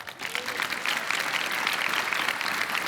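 Applause for finalists at the International Children's Peace Prize ceremony: a full, continuous wash of clapping from a sizeable audience, steady and moderately loud throughout the short stretch.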